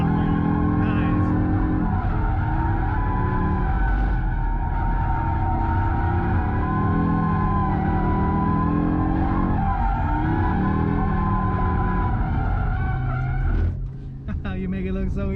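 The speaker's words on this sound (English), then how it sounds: "A lot more of that oversteer. A lot more tire squeal too." A 2022 Audi RS3, a 400 hp all-wheel-drive car, drifts with a sustained engine drone and long wavering tire squeal throughout, fairly loud and continuous, with voices talking over it.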